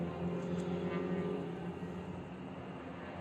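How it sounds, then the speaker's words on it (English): An attack drone flies past with a continuous buzzing engine drone like a small motorcycle, the sound steady and then fading slightly, with no talk over it. "We can actually hear the drone."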